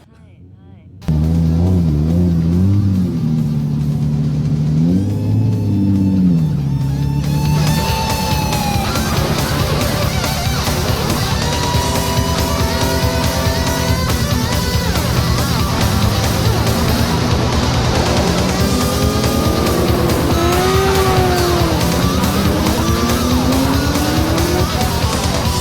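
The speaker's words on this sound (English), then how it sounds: "This is a 92 R32 GTR." 1992 Nissan R32 GTR on radial tires lapping a course, its engine revving and shifting loudly through repeated rising pitches, with a voice talking over parts of the run.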